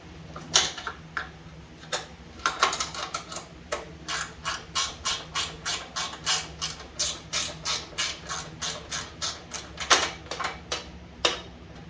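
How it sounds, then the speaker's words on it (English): A hand ratchet loosens half-inch front fender bolts on a Case/Ingersoll 446 garden tractor, a close, loud run of rapid metallic clicks in steady bursts, pausing briefly between strokes. "there's a couple half-inch bolts on the front here. I'm just going to go ahead and remove those two."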